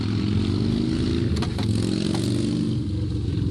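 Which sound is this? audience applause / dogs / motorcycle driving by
motorcycle driving by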